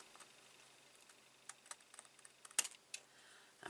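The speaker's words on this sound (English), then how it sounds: "I'm just trimming off the excess" Paper trimmer or scissors cutting excess Whisper White cardstock off a handmade Stampin' Up! thank-you card, heard as faint, quiet scattered ticks and one brief sharper slicing burst near the end.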